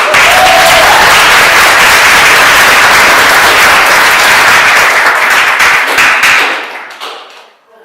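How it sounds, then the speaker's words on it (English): Audience applause at a school term-end event: dense, sustained clapping fills the room for several seconds before quickly tapering off into silence. "So please give them a round of applause."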